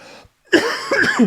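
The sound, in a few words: cough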